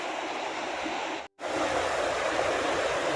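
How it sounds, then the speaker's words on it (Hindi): A beautiful river near Manali rushes past in a steady, dense broadband roar, close and loud, with a brief abrupt cut to silence partway through before the flow resumes unchanged. "यहाँ पर है रिवर।"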